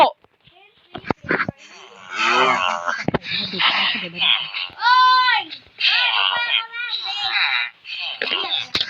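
A cow in a video game moos loudly and repeatedly, drawn-out tonal lows close up, alternating with a person talking.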